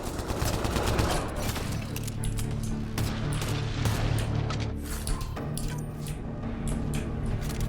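Enemy gunfire crackles through a firefight in Mass Effect: Andromeda, with dense overlapping bursts and impacts forming a loud, continuous barrage over rumbling game effects.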